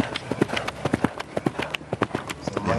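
Eventing horse galloping cross-country, hooves drumming in a fast, uneven rhythm of loud thuds on turf, close by with faint noise behind.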